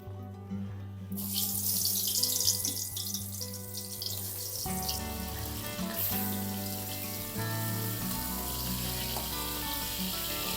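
Eggplant pieces coated in turmeric and salt fry in hot oil in a pan, a steady hissing sizzle that starts abruptly and continues close up, over faint background music.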